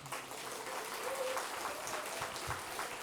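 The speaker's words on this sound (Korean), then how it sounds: "박수 한번 쳐주면 안 될까?" A Korean church congregation claps for an elder, a faint, distant and steady patter of applause with a voice murmuring beneath it.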